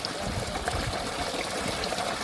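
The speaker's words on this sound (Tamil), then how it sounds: "தண்ணி நல்லா வந்துக்கிட்டு இருக்கு" Water pours in a steady, strong gushing stream from a 1500W BLDC solar borewell pump drawing from about 350 feet through a 50mm outlet; the rushing flow is close, loud and continuous, with no voices.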